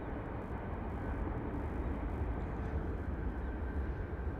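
Steady, loud broadband roar from a jet airliner in Tennessee One livery at Las Vegas Harry Reid International Airport, close by and unbroken with no talk over it.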